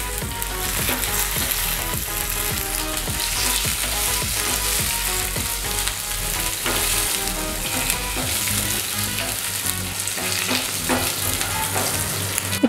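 Curry leaves drop into hot oil while cooking Karnataka-style puliyogare, setting off a loud, dense crackling sizzle that keeps going steadily, close up, with no talk.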